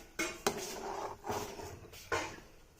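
A metal lid clatters onto a cooking pot while cauliflower boils for pakoda, giving a few sharp clanks and knocks of cookware spread across a couple of seconds, close and moderately loud with no talking.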